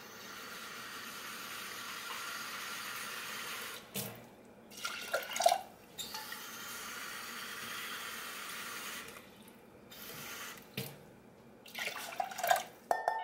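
Water runs and pours in short bursts with splashing and clinks between them, close by in a quiet kitchen, measured out for cooking rice.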